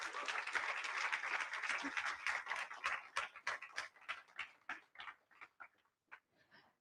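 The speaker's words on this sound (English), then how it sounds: "Let's give them a massive round of applause." At a STEM learning event, a crowd applauds the parents and judges. The clapping starts dense and steady, then thins into scattered individual claps that fade out toward the end.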